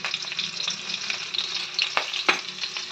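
A small amount of onion sizzles steadily in a hot pan for a Bengali fish curry, a dense close crackle of frying with occasional scraping stirs and brief louder spits.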